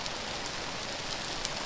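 Pouring rain at a camping and trout fly fishing spot, a dense, even hiss of drops striking surfaces with occasional louder close splats.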